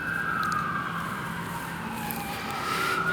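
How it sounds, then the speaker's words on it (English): An emergency siren wails steadily along a New York City street near Lincoln Center, its pitch sweeping slowly down over constant traffic rumble, with no talking. "Sirens are blaring."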